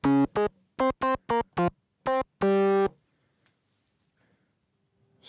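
Korg monologue synthesizer playing a custom patch: seven short, separate harmonic notes in a quick rhythm, then one longer held note, loud and alone, followed by near silence.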